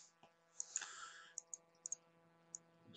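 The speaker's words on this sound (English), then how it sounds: "Click on the little button here." Sharp, quiet mouse clicks, a few single and a couple in quick pairs, spaced irregularly, alone in a quiet room with a faint hum.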